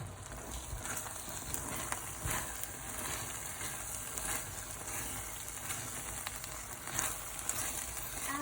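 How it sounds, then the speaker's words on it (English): One tablespoon of butter sizzling in a frying pan, a steady, dense crackle and hiss that holds level throughout, close and continuous with occasional small pops, no voices. "I'm just going to add some butter in, like just 1 tablespoon of butter in, just to make it extra creamy"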